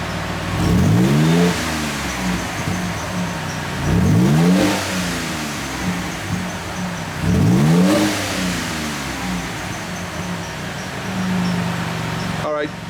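A Mitsubishi Legnum VR4 turbo engine revved three times to about 4,000 RPM, each rev rising and falling in a distinct surge over a steady idle, with people talking nearby.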